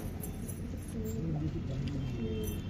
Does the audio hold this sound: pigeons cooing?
yes